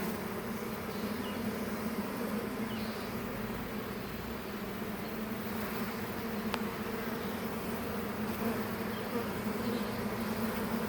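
A swarm of honey bees hums steadily and densely close by, a continuous even buzz with no voices over it.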